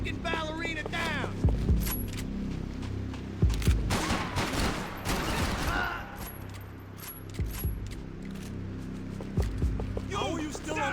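Gunfire in Max Payne 3, sharp shots and short bursts scattered across the scene, loud and close, mixed with shouting voices and combat noise.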